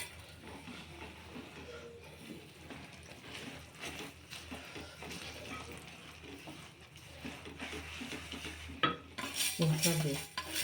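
Ghee being stirred into hot jaggery syrup for sesame brittle, a spoon scraping and clinking steadily against the pan in a home kitchen, with a brighter metallic clatter near the end.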